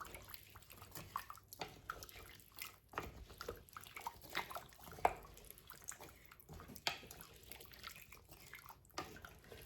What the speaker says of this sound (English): So in goes the potatoes. Now we're going to give it a good stir.